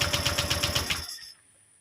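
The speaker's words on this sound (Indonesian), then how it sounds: "Coba saya starter dulu." A Honda Vario 125 LED scooter with an ignition-loss fault code 52 is cranked on its electric starter. About a second of rapid, rhythmic whirring pulses plays up close, then cuts off abruptly into quiet.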